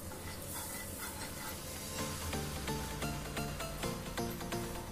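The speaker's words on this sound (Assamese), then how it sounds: "এখন তেৱা পাতি থৈছোঁ মই তাতে অলপ এয়া বাটাৰ দিছোঁ ঘি দিছোঁ" Ghee sizzles on a hot tawa while a cauliflower paratha cooks, making a continuous close frying hiss with soft scraping and crackle.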